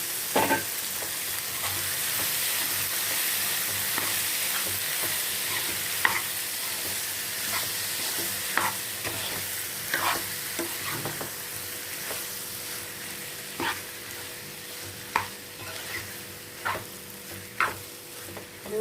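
Soaked soya chunks for a meal maker gravy being stir-fried in a pan, with a steady sizzle under repeated scraping stirs of the spoon, close and moderately loud, no talking.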